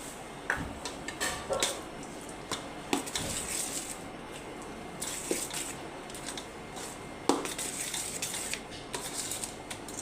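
A spoon clinks and scrapes in a bowl of shrikhand mixed with almonds, grapes and cashews, with scattered light taps and stirring scrapes at close range and no talk.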